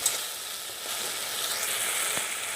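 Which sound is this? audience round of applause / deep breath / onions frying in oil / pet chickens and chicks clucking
onions frying in oil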